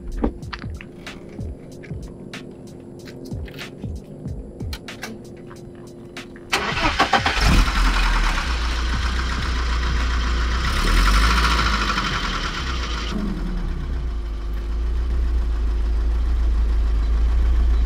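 A car engine cranks and starts after a quiet stretch, then settles into a steady, throbbing idle that stays loud and close for the rest of the clip.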